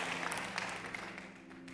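A church congregation applauds, a soft, steady patter of clapping heard from some distance, brief and without voices.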